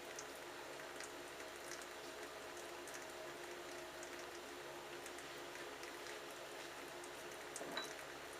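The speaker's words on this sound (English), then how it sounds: "Lathering up for pass number 2." A shaving brush works soap into lather at close range, a steady soft wet swishing and squelching that runs throughout with little change, brushed on for the second pass of a wet shave with a Schick Injector razor.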